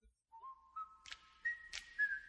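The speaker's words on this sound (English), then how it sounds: "he whistled his way into Hollywood and into our hearts" A person whistles alone, a clear, close melody of sustained tones that slide upward and hold steady, joined by a few brief breathy bursts.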